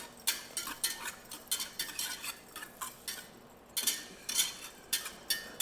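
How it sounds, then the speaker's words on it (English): Onions cook in a pan while a utensil stirs them, giving repeated soft scraping strokes and light clinks against the pan at a steady rhythm, with a quiet sizzle underneath. "So I see my onions are they're cooking now"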